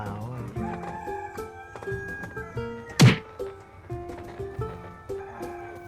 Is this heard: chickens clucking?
yes